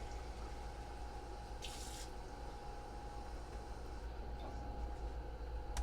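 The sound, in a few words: water running from a tap into a measuring cup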